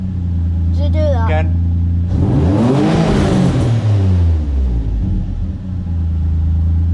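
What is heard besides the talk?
turbocharged Nissan 350Z engine revving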